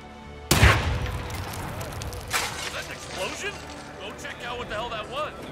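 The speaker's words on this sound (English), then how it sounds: "Might have been an explosion." A propane explosion in the Hitman video game hits with a sudden, loud, sharp blast, followed by a second, smaller boom about two seconds later, then rumbling debris and faint voices in the background.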